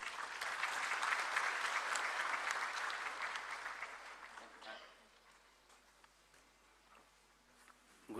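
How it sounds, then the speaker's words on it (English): Audience applause welcoming a speaker at a formal Human Rights Commission event with the President of India present, loud dense clapping for several seconds that fades away to quiet room tone. "I want you all to give him a welcoming round of applause."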